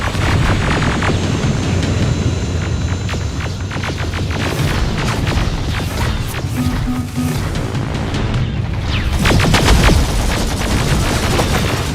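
Gunfire from the video game Terminator Resistance: a loud, dense, continuous barrage of rapid shots and booms that fills the whole stretch without pause, growing heavier near the end.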